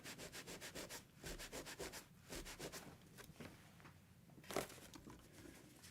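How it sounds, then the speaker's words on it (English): A terry cloth towel rubbing damp watercolor paper, heard as quiet, close rhythmic scrubbing strokes in bursts with a louder rub near the end, faint overall and without speech. "Then I take the terry cloth towel and I pat it dry, and then I rub it."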